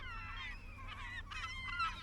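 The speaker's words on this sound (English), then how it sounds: "Not a lot of activity other than the seagulls down there." Gulls calling at a beach, several overlapping honking, squawking cries at moderate distance over a steady low background rumble.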